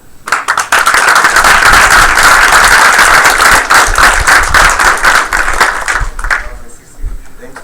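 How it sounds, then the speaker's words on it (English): An audience at an awards ceremony breaks into loud, sustained clapping that swells, carries on for several seconds, then fades out. "give a round of applause to our first Rookie of the Year"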